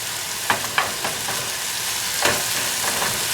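Ground beef browning in a pan on an RV kitchen stove sizzles steadily, with a few sharp scraping stir strokes breaking through the constant frying hiss.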